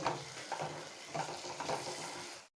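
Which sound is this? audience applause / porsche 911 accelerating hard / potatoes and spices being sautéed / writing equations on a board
potatoes and spices being sautéed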